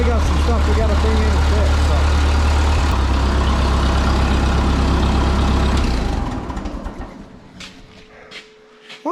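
A Ferguson TO-20 tractor engine idles with a steady low rumble for about six seconds, then cuts out, leaving quieter background sounds.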